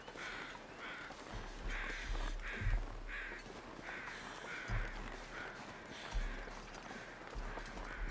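Crows caw in The Long Dark video game, a run of repeated harsh calls at a moderate distance over a low, faint background of game ambience.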